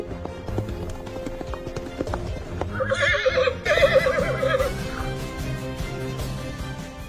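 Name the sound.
white horse neighing and hooves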